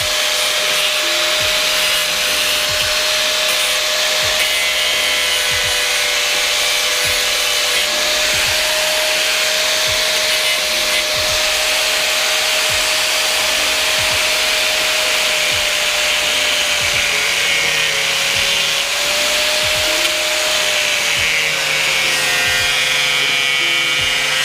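A power tool cuts a carbon fiber hood for a Kia Stinger with a steady, loud, continuous whine and grinding hiss, unbroken throughout.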